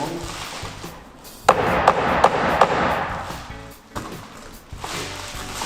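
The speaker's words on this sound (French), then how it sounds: "Je vais clouer en haut," Sharp hammer strikes drive nails into a strip of roofing on a flat-roofed wooden garden shed, a handful of spaced, loud knocks over rustling and handling noise.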